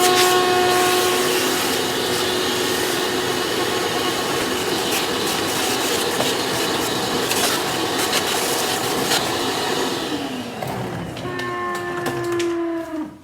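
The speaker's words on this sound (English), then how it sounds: "So underneath here, I do have a vacuum cleaner. So I'm going to kind of pull this off, get the hose out, turn it on." A shop vacuum cleaner runs at a jewelry engraving and soldering bench, a steady loud whirring roar that holds for about ten seconds and then winds down, leaving a fading tonal hum alone.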